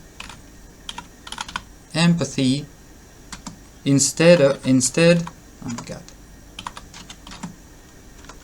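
Keys clatter in fast bursts of typing on a computer keyboard, with pauses between runs; a voice speaks briefly.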